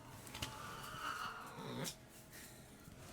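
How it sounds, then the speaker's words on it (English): Cats screaming and fighting indoors somewhere in the background, a strained yowl rising over a steady hiss of room noise and fading after a few seconds. "Don't mind the screaming cat in the background."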